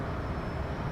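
Twin jet engines of a CJ3 business jet in a flight simulator game, with the throttles pushed up during the climb, give a steady, dense roar that holds at an even level throughout.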